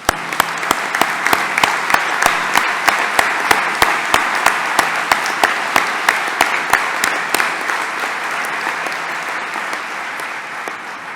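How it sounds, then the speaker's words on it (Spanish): A general assembly audience applauds for the deceased and their families, a dense, loud, sustained clapping with sharp individual claps punctuating it, steady throughout before easing slightly at the end. "pedimos un aplauso para ellos"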